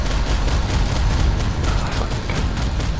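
Enemy fire in Planetside 2 pours in as a dense, continuous rumble of overlapping shots and blasts, loud and unbroken for a few seconds.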